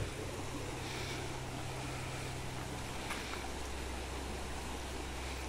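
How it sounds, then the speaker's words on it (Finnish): A strong river current rushes past close by, a loud, steady broadband roar of churning water that holds constant throughout with no speech. "Se on toi virta, joka pitää tämmöstä kohinaa."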